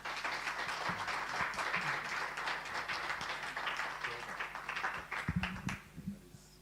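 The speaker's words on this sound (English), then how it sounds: "Can we just give a round of applause again to all the speakers?" An audience at a UNESCO master class against racism and discrimination gives the speakers a sustained round of applause, with dense clapping that fades out toward the end.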